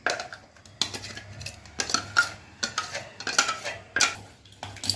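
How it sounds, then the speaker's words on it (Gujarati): Ghevar batter whisked briskly in a bowl, the whisk clattering against the sides in quick bursts of scraping, clinking strokes with short gaps between them, close and clear, with no talking. "આપણે ખૂબ ઘૂંટવાનું છે એટલે કોઈ કણી કે રહી ગઈ હોય ને એ રીએ નહીં"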